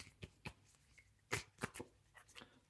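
Tarot cards being shuffled by hand, with soft papery riffles and light taps arriving in short, uneven bursts, close and quiet.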